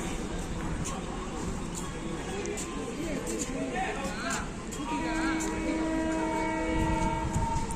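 A train engine idles at Tiruvuru junction while a coach is coupled, making a loud, continuous rumble with clanks and a sustained tonal whine near the end.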